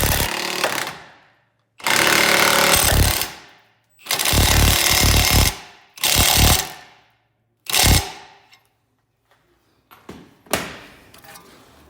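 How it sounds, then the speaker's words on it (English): An impact wrench drives home a front lower ball joint on a 2008-2020 Dodge Caravan in five loud, close hammering bursts of roughly a second each, separated by short pauses, with a couple of weaker blips at the end. "The same thing, then you just use the impact again."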